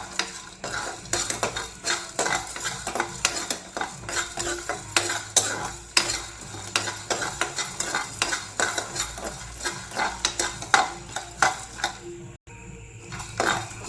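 Masala roasting in a pan for North Karnataka-style stuffed brinjal curry, with a spoon stirring and scraping in quick repeated strokes, frequent metallic clinks over a light sizzle, and a brief pause near the end.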